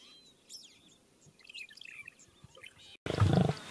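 A mother lion in the African savanna gives a short, loud, rough vocalization near the end, after a stretch of scattered bird chirps and quiet ambient sound.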